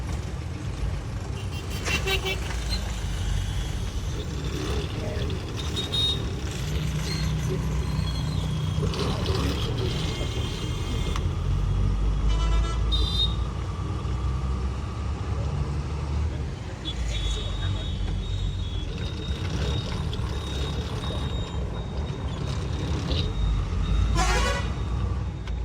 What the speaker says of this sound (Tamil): இப்போ என்னடா ஒரே வண்டியும் டிராஃபிக்கு, டூ வீலரு குறுக்கால வர்றது